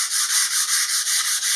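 Hand sanding of a wood subassembly with sandpaper, a steady rhythmic back-and-forth rasp of about ten strokes, close and loud with no talk.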